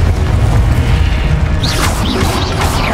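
A Confringo blasting spell bursts in Hogwarts Legacy as a loud, dense rumbling explosion with swirling magical whooshes on top, continuous and close throughout.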